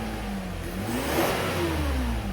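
A car engine revving through throttle snaps, its pitch climbing and falling in a continuous, loud, close drone.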